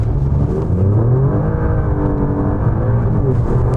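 An Alfa Romeo Giulia Quadrifoglio with a 510-horsepower engine pulling hard, its loud, close engine note rising steadily through the revs in one continuous surge.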